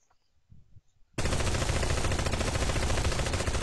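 Turret in the Last Fortress Underground game opening up on zombies: after a second of quiet, a sudden dense, loud stream of rapid gunfire that continues without pause.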